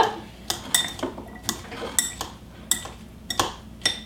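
A spoon stirs black bean and mango salsa in a bowl, giving a series of sharp, regularly spaced clinks and scrapes against the dish, close and fairly loud with no talk.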